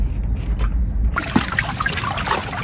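Water trickles and rushes back through a pond pump as it is flushed, a steady close gurgling flow that swells louder partway through, with no talking.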